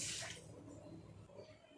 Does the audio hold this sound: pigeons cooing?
no